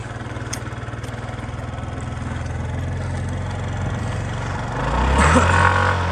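A motorcycle engine idles close by with a steady low, pulsing throb, then revs up briefly louder near the end before settling again.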